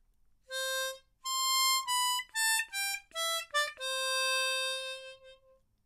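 A C diatonic harmonica plays a short melody line alone, clear held notes with a few quick ones in the middle and a long last note that fades out.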